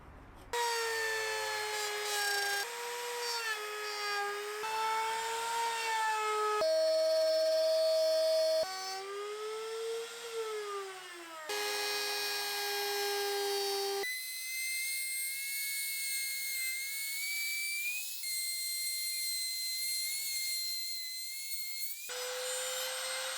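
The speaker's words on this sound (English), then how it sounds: "now I can start cutting the recesses which are going to house all of the wiring for this bedside table" A power tool cuts wiring recesses into a wooden bedside table, giving a continuous close whine whose pitch rises and dips as it bites into the wood, with no talking.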